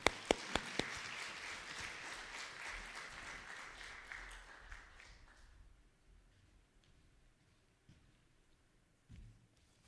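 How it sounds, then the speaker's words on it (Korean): Congregation applause at a Baptist pastor's ordination service in a church in Wonju, a few sharp claps opening into dense clapping that fades out over about five seconds, followed by quiet room tone. "우리 한 박수 하십시다."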